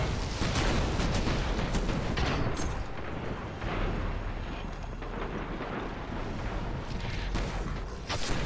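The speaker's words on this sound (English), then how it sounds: "Oh, and the ships are shooting at y'all." Heavy booming cannon fire from ships in a video game battle pounds without a break, mixed with a rushing, roaring wash of explosions and wind, loud and chaotic throughout.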